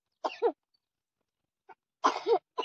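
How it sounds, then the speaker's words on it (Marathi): A person gives a few short coughs or sneeze-like bursts in a quiet indoor setting: one burst, a faint catch a moment later, then two more close together near the end. "खोकला येतोय."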